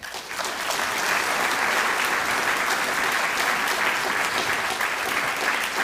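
An audience at a photography history lecture gives steady, even applause to welcome the speaker. The clapping swells quickly and holds for several seconds in a hall, with no voices on top.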